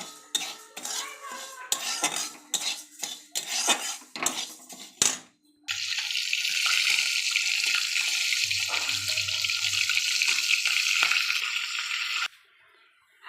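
Tap water runs steadily into a pan while fried mung dal is washed, after a stretch of clattering metal utensils and pot knocks; the flow stops abruptly near the end.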